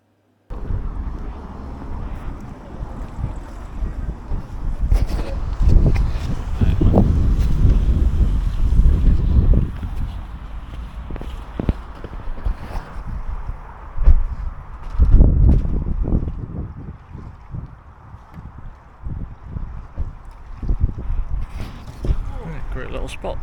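A kayak moves on open water in strong wind, with heavy gusts buffeting the microphone and surging swells of water and spray, and a voice speaking briefly over the noise.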